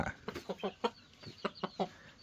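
A Burmese fighting rooster clucks in a quick series of short, close bursts, an irregular run of throaty calls against a quiet background.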